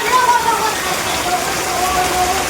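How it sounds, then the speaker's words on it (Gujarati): Heavy rain pours down steadily outside a house, a dense, loud rushing patter that stays constant throughout. "જોવો તો ખરા કેટલો બધો વરસાદ છે"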